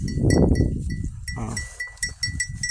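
Dairy goats, a doe and wether kept together, bleat loudly and close by in a long opening cry, then a few shorter calls over a steady high-pitched ringing tone.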